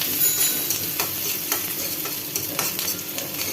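Onion, ginger and garlic fry in hot oil under a bright sizzle, while a utensil stirs and scrapes the pan in repeated close strokes.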